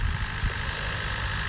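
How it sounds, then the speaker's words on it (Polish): A power generator runs in the background, a steady low rumbling drone that holds level throughout, with no voices over it. "bo chodzi o agregat tutaj w tle"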